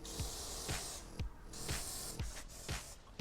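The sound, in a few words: spraying clear wax oil on cut metal edges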